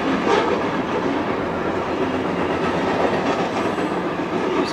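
A BNSF freight train rolls past nearby, a loud steady roar of wheels and cars with faint rhythmic clatter, continuous throughout with no talking.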